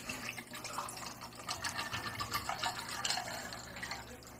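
Water splashes and gurgles steadily into a container nearby for several seconds, a continuous bubbly pour with no talking.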